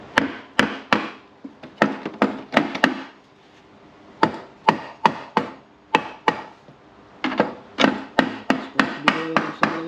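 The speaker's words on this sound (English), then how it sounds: "So I'm going to just give a few taps with this and see if any oil comes out" Light metal taps on the seal area of a Can-Am DS90 dirt bike, a steady series of sharp, close knocks in groups with short pauses, no talking.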